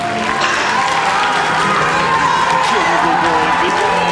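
An audience at The Voice cheering and applauding, a loud, continuous wash of clapping and crowd noise with voices mixed in, close and steady throughout.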